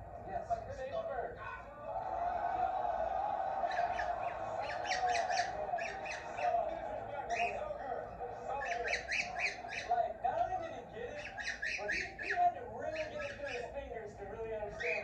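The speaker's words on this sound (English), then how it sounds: "there's a bird. We gotta save the bird." Bird squawking repeatedly in bursts during a live feeding, close and fairly loud over a steady droning background, with people talking throughout.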